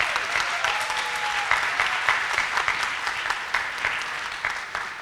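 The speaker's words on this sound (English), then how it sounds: "Can we get one more round of applause for all three of them?" Crowd applause at an honors forum honoring three speakers, a sustained, even roar of clapping hands from a large audience with a few sharper claps standing out near the front.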